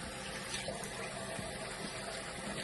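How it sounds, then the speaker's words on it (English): Water runs and splashes steadily as a melting cleansing balm is rinsed off a face, a faint continuous wash of noise with no talking. "I'm just simply rinsing it off right now"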